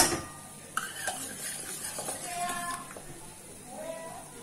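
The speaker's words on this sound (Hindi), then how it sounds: "इसे हम अच्छे से हिला लेंगे, इसे दाल घोटना कहते हैं पंजाबी में" A spoon or ladle stirs and mashes boiled chole dal in a pot, soft scraping and knocks against the metal close by, with a voice talking faintly in the background.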